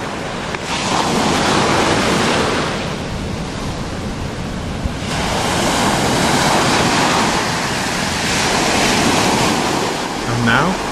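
Ocean surf rolling in at Kapa Beach on Kauai, Hawaii, a loud continuous wash of breaking waves with swelling and fading surges, mixed with wind noise on the microphone.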